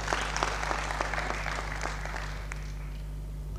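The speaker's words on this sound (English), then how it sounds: "Yes, they deserve some clap" Audience applause at the launch of a ten-year capital markets development master plan, a steady patter of many hands clapping, fairly close and even, fading slightly near the end over a constant low electrical hum.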